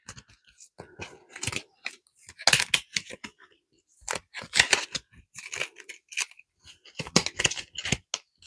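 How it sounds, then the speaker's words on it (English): A pack of Clover cards is shuffled, giving bursts of crisp riffling and flicking close by, in uneven clusters separated by brief pauses, with no talking. "So we get to shuffle up the whole pack again."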